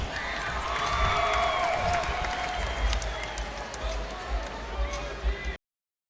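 Crowd cheering and applause at an NCAA women's volleyball match, UCLA at Stanford, a steady wash of clapping and shouting in a large arena with a few sharper claps near the end.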